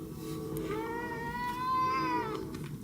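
A cat meows for food, one long drawn-out rising and falling meow close by, with a shorter faint call just before it, against quiet indoor room noise.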